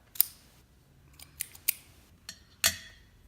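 A cigar cutter clips the closed end of an Mbombay Classic cigar. A handful of sharp, close snips and clicks stand out against near silence, and no one speaks.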